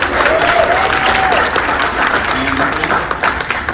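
An audience at a growth seminar gives a loud, sustained round of applause, dense clapping with some cheers, a voice briefly audible within it.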